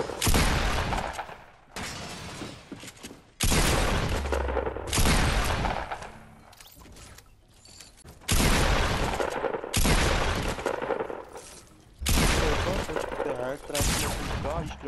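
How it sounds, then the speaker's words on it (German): Grenades fired and exploding in the Fortnite video game: about six loud, booming blasts land at irregular intervals of one to three seconds, each with a crackling tail, and quieter gaps fall between them. "Ich schieße einfach Granaten."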